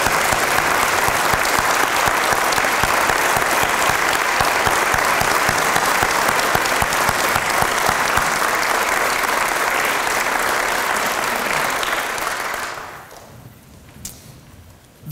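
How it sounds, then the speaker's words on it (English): Audience applauds firefighters at a fire and EMS recognition ceremony, loud dense continuous clapping for about twelve seconds that cuts off sharply, leaving a few faint scattered sounds. "These men deserve every ounce of applause we can give them."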